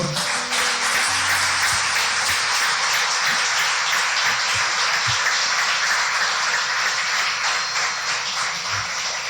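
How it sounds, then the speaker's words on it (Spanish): Loud, sustained applause from a church congregation during a Sunday service, a constant roar of clapping with a few low thumps underneath, filling the whole stretch. "Vamos a darle un fuerte aplauso al Señor"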